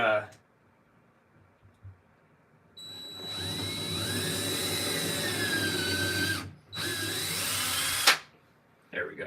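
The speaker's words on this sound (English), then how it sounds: "Maybe I am gonna pilot hole this one because this is not going in." Power drill boring a pilot hole into a wooden wall stud for a lag bolt, a loud steady whine with rising pitch running for several seconds, briefly stopping and restarting, with a short spoken remark near the end.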